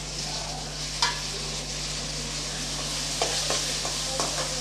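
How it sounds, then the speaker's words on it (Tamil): Finely chopped tomatoes sautéing in a pan for fish curry make a steady, close sizzle, broken by a few sharp scrapes and clicks as a spoon stirs them, over a low hum. "நல்லா வதக்கி விட்டுக்கலாம்"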